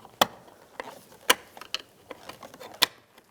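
Plastic door trim on a 2006-2011 Cadillac DTS being pried loose with a flat blade tool, giving a few sharp separate clicks and snaps spaced irregularly, close and fairly quiet with no talk.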